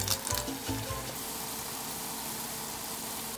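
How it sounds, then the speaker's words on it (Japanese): Pumpkin donuts deep-frying in hot oil: a steady, even sizzle with a few soft bumps at the start, close and moderately loud, with no talking. "では残りも同様に揚げます"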